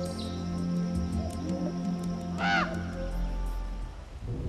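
Ravens calling outdoors in Crimea, one loud harsh croaking caw in the middle standing out over a low rumbling background, with fainter calls around it.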